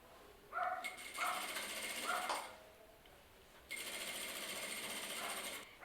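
Sewing machine backstitching boning into a party dress, fast mechanical needle chatter in several short bursts and then a longer sustained run, close and loud.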